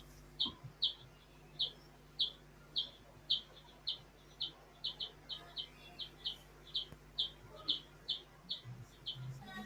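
A bird calls loudly in a repeated series of sharp, high chirps at a steady rhythm, roughly two per second, standing out clearly over a quiet background hum.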